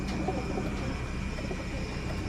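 Racing pigeons coo softly in a loft, low murmuring calls layered over a steady background hum for a couple of seconds.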